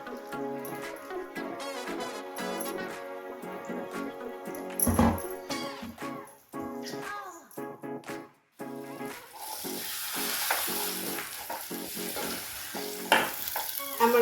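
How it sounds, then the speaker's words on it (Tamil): Coconut milk modak dough is stirred in a pan until it thickens, giving close scraping and sizzling sounds in uneven strokes, with a louder, hissier stretch toward the end. "மாவை போட்டு நல்லா திக்கார வரைக்கும் நல்லா கிண்டின்னு இருந்தால் போகிறோம்"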